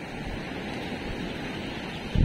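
Sea waves wash steadily onto a debris-strewn shore on a rainy day, a continuous broadband rush with wind noise on the microphone and a louder gust or bump at the very end.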